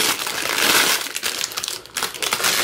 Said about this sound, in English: first step, you're going to crumple it up